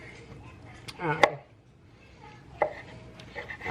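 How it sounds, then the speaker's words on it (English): A knife chops artichokes on a cutting board in a home kitchen, a couple of sharp, separate cuts spaced apart over a quiet background. "I'm gonna chop some of these up"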